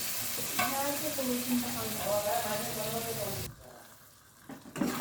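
Marinated mutton sizzles and spatters as it is stirred into a hot pan, a busy close frying hiss that drops away abruptly near the end while a voice talks over it.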